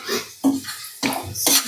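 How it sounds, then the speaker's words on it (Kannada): Semolina (upma rava) stirred as it roasts in a pan for vegetable upma, heard as three close scraping, clinking strokes of a spoon against the pan in an uneven rhythm, with no talk. "ಇವಾಗ ನಮ್ಮ ರವೆಗೂ ಕೈ ಆಡಿಬಿಡೋಣ"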